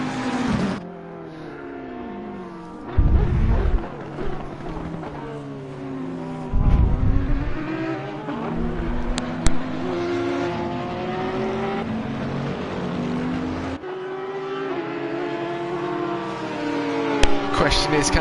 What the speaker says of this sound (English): they are hard on the brakes up towards the chicane with just over 15 minutes of racing left to go